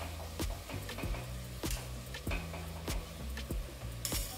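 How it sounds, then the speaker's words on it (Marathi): Rice being added over cooked vegetables for a prawn biryani in a pan on low heat, with a soft continuous sizzle and repeated sharp clicks and taps of a utensil against the pan. "आता भात घालून घ्यायचा आहे।"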